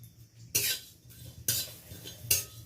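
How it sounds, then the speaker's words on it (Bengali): Cumin and fennel seeds being stirred as they dry-roast in a wok over low heat, three distinct scraping clinks of a utensil against the metal pan at regular intervals with soft rustling between them. "হালকাভাবে একটু নেড়ে নিচ্ছি"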